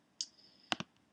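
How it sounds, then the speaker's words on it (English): Laptop trackpad clicking: a few crisp, quiet clicks close by, one faint tick then a quick pair, in a quiet room. "Now I'll just use the trackpad for now."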